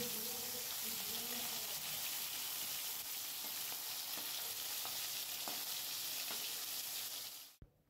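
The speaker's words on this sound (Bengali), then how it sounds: "এদিকে দেখো বিট গাজরটাও ভাজা হয়ে গেল, একসাথে বিট গাজর ভাজা হলো" Beetroot and carrot fry in a pan with a continuous dense sizzle, close and steady, with faint scrapes of stirring before it cuts off abruptly near the end.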